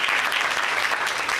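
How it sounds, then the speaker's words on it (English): A school audience at a Halloween chemistry show claps steadily in a brisk, dense round of applause that fills the room evenly for over a second, with no talking over it. "give him a round of applause for that"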